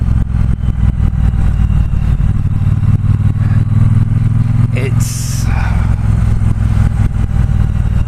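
A 2018 Triumph Bobber Black motorcycle cruising along a road, its engine a steady low rumble with wind roar throughout and a brief higher-pitched burst midway; the ride sounds slightly jerky with a soft, delayed throttle response.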